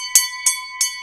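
A bell rings to open the stock market, three or four bright metallic strikes spaced about a third of a second apart, each with a ringing tone that lingers underneath, loud and close with no talking.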